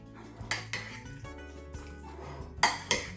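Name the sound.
mixing Russian salad with mayonnaise in a bowl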